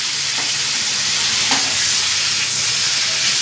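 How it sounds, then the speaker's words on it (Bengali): Prawns frying in a pan give off a steady, loud sizzle and hiss throughout, with faint stirring scrapes now and then, and no voices. "মাছগুলো এদিকে ভাজা হতে থাক"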